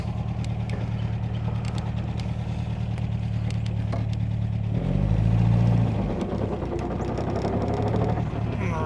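An MGA 1600 engine running with a misfire, a steady low rumble with an uneven beat that rises in a brief rev midway before settling back, heard close.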